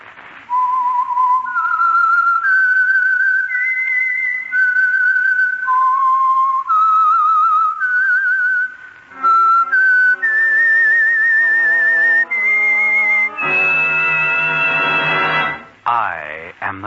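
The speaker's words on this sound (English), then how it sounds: "the signal to listen for is this whistle that identifies the Signal Oil program" A clear melodic whistle, the theme signal of The Whistler radio program, climbs and falls through a short tune, held notes stepping up and down, then joined by orchestral instruments that swell and fade.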